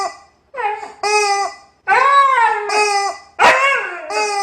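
A dog sound effect gives a series of loud, tonal yelping barks and howl-like cries in quick bursts with short gaps, close and alone.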